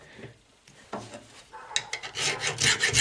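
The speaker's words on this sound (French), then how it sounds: "je vais devoir limer les 4 faces" A metal file rasps chrome off the square parts of new door handles for a Traction 11B. Scattered strokes start quietly, then grow into loud, close, rhythmic rasping.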